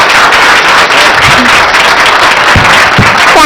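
An audience at a nursing students' event clapping loudly and continuously, a dense wash of applause with a few sharper claps near the end.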